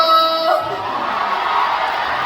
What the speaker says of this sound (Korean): 네, 함성!